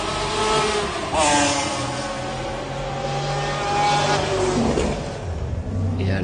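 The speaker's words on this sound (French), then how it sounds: "la McLaren d'Andy Wallace" McLaren race car at the 1995 24 Hours of Le Mans, engine roaring and revving with the pitch rising and falling as it passes, heard under a commentator's voice.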